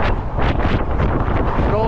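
Strong wind buffets the microphone on the Golden Gate Bridge in San Francisco, a steady loud roar with gusty surges, and a voice talks faintly underneath.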